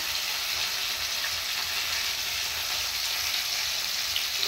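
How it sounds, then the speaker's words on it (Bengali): Potatoes frying in a pan give a loud, continuous hiss that holds steady without pause, alone and close to the pan. "আলুটা ভেজে নেবো একটু ভালো করে"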